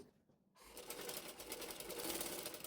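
A sewing machine stitches the back neck of a blouse, a fast even whirring run of stitches that starts after a brief pause and continues steadily at close range.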